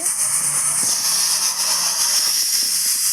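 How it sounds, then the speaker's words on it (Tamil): A steady high-pitched hiss of steam whistling from a pressure cooker cooking country chicken curry, continuous and fairly loud with no pauses. "அந்த டைமில் குக்கர் விசில் வந்துடுச்சு"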